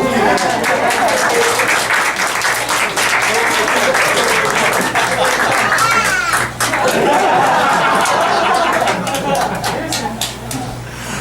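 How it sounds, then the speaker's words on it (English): An audience at a live storytelling show breaks into loud, sustained applause lasting about eleven seconds, with chatter and some laughter mixed into the clapping. "I would like to give a round of applause to two other people"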